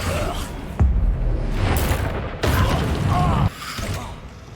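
A Flipendo spell cast in Hogwarts Legacy during a fight against inferi, heard as a loud magical whoosh with mechanical, creaking bursts and thumps, with a voice faintly underneath.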